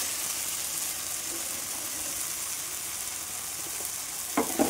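Shrimp coated in chilli powder frying with pointed gourd seeds in a pan: a continuous close sizzle and hiss, with a couple of brief spatula scrapes at the very end, no talk.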